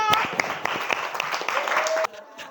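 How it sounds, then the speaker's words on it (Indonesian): A classroom of students claps together at the end of a microteaching lesson, a brisk burst of applause with voices over it that cuts off abruptly near the end. "Oke, tepuk tangan untuk kita semua."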